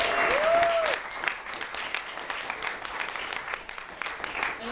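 A roomful of people at a mushers' dinner break into sustained applause for the winner of the 12 Dog 200 mile sled dog race, many hands clapping steadily for several seconds after a brief feedback whistle.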